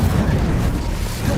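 The Incendio fire spell in Hogwarts Legacy roars as a dense, loud burst of rushing flame and rumble, steady and close throughout, with no clear voices.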